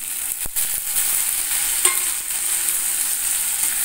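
Slit green chillies and onions frying together in a pan, producing a loud, continuous hissing sizzle with a couple of faint stirring knocks, close up and without speech.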